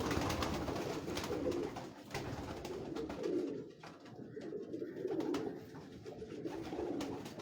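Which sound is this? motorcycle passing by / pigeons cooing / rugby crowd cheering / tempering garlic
pigeons cooing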